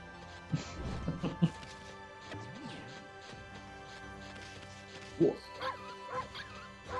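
Dog in the video game Okami HD, a few scattered barks and yips over a quiet game soundtrack, with crashing hits and a whimpering cry mixed in.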